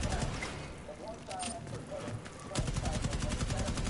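Gunfire hits an enemy in Rainbow Six Extraction, a run of rapid shots with a sharper burst near the end, heard under game ambience and a voice.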